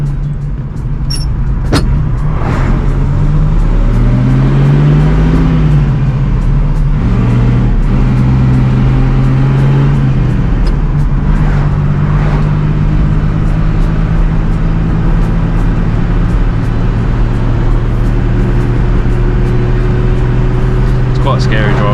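A 1954 Wolseley 6/80 drives along, its engine note rising and falling as it revs, with the low steady drone of the engine loud throughout and a voice talking over it.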